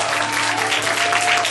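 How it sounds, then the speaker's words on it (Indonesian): A church congregation applauds during a sermon, a steady, loud wash of clapping from many hands lasting over a second, with a faint sustained tone underneath. "Tepuk tangan kita."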